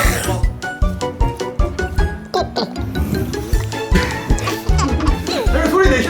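A voice imitates a pig's oinking as an answer in a lighthearted quiz game among elderly grandmothers, heard as loud grunting sounds over a busy, dense background of music and noise.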